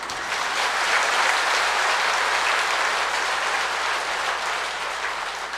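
An audience claps together at a Buddhist temple service, a dense, even wash of applause that holds steady for several seconds before easing slightly toward the end.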